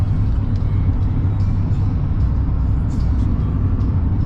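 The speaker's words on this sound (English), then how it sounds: "We're driving down the road right now." Car rolling along a rural road out in farm country, a steady interior rumble of engine and tires, close and constant throughout, with no talk.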